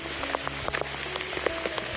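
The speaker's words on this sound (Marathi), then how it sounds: "हा आहे कोकणातला पाऊस." Heavy monsoon rain in the Konkan hills near Avchitgad fort patters steadily on surfaces close by, a dense wet wash with scattered louder drops, heard alone for about two seconds.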